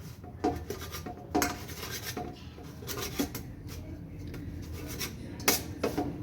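A knife cuts cooked wheat-flour chapati into chip-sized pieces on a board, with a series of soft irregular taps and scraping strokes close by, fairly quiet.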